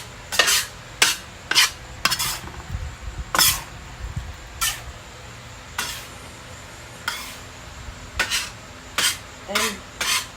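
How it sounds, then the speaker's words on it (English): A spoon scrapes and swishes through penne noodles coated in creamy Alfredo sauce in a pot, about a dozen distinct stirring strokes in an uneven rhythm, close and clear with no talking. "all you do is you stir it up real good"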